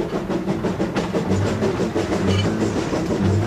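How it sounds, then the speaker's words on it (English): An 1880s steam locomotive running at Knott's Berry Farm in California, a continuous rumbling chug with rhythmic clattering of cars on the rails, fairly loud and close throughout. "Trains, such as this 1880s steam locomotive now in use at Knott's Berry Farm"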